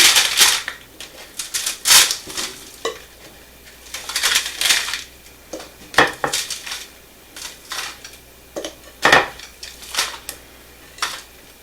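Jam bar mixture is spooned and spread into a metal baking pan, giving sharp clinks and scrapes of a utensil against the pan in irregular bursts, fairly close, with quiet gaps between them.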